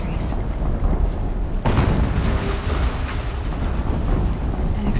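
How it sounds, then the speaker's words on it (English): Explosions in the video game Horizon Zero Dawn, a loud deep boom followed by sustained rumbling blast noise, with a voice talking over it. "An explosion."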